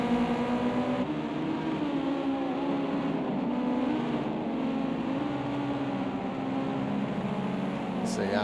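Ginetta GT5 race cars in an online racing game rev very high, with layered engine whines sustained under continuous commentary from a race caster.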